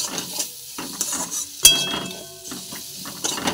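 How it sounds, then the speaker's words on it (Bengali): A spoon stirs ground cumin into food in a pan, with scraping strokes, light clinks and a soft sizzle beneath, one sharper metallic knock near the middle. "জিরে গুঁড়ো। এইটা দিয়ে আবার একবার ভালো করে নেড়ে নেব।"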